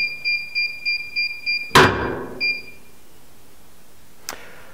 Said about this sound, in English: When the countdown ends, the heat press will beep and open automatically.